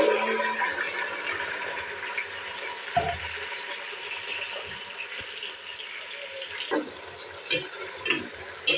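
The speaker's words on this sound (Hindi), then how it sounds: "ऑयल मेरा गर्म हो गया तो अब इसमें भिंडी डालूंगी फ्राई होने के लिए।" Okra (bhindi) frying in hot oil for achari bhindi, a steady hissing sizzle with a few utensil knocks and stirring scrapes, close and moderately loud.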